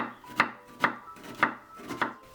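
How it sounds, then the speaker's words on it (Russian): A knife chopping the raw filling for Dagestani chudu as finely as possible on a board: four sharp, evenly spaced chops, close and fairly quiet, with no talking. "А сейчас как можно мельче нарезаем."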